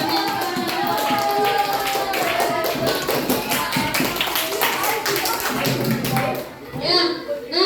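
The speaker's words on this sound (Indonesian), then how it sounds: "Angga, tepuk tangan buat kita semua" Students clap together in a classroom, a steady patter of hands over lively background chatter and a teacher's voice, fading briefly near the end before a few final claps.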